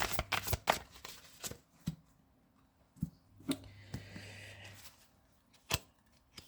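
A deck of tarot cards is cut and shuffled by hand, giving a run of soft, quick card slaps and riffles with short pauses between, close and fairly quiet, with no talking.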